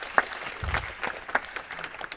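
An audience at a mentorship session claps briefly for its speakers, giving a short, thin patter of scattered claps that stays fairly quiet.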